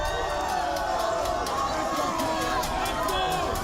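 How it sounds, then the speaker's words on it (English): A wrestling arena crowd roars steadily through a tag team match, a dense continuous wall of cheering and hubbub with no breaks. "And look at this crowd."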